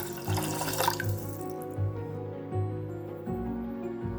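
Water is poured into a rice mixture, a steady close splash and trickle running for a few seconds over soft background music.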